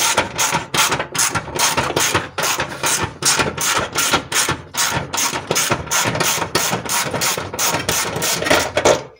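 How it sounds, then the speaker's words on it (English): A ratchet clicks rapidly in repeated bursts while bolts are removed from the gearbox of an Alfa Romeo 147 during a clutch kit replacement. The close, metallic ratcheting comes in quick regular strokes throughout, with no voices. "I have a feeling that I have to take out these back bolts."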